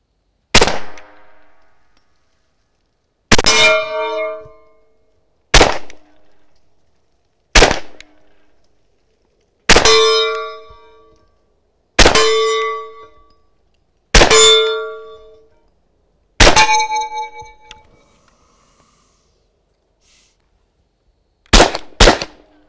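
Shots from a SilencerCo Maxim 9 suppressed pistol firing subsonic ammunition, about ten sharp clanging cracks spaced a couple of seconds apart with a longer pause before a final quick pair, each ringing briefly.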